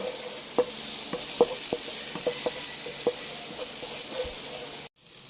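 Chopped onions sizzle steadily in a hot pan for chicken pochero, with a run of sharp scraping taps as they are stirred, ending in a sudden brief cut.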